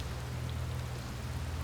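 Rain in the video game Outer Wilds, a steady hiss of falling rain and pattering drops, continuous and even throughout with no voices.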